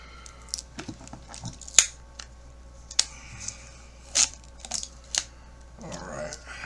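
A blade nicks and cuts through tape wrapped around a 6s 16AH Multistar battery pack, making a scattered series of sharp, close clicks and snaps over a quiet background, with soft handling noise toward the end.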